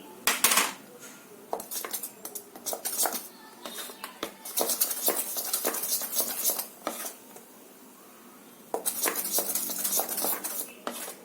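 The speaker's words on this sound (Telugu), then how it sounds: "ఇలా ఉండేలా కలుపుకోవాలి పిండిని" Batter for stuffed beetroot chilli bajji being mixed by hand or spoon in a bowl, with rapid scraping, clinking strokes in bursts separated by brief pauses, close and fairly loud.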